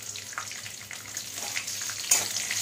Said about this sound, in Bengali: বাদামটা ভেজে নিচ্ছি, লো ফ্লেমে বাদামটা ভেজে নিচ্ছি